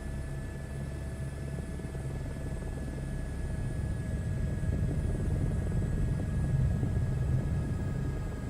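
A helicopter in a flight simulator game keeps up a constant low rotor rumble with a thin steady engine whine above it, droning evenly without pause.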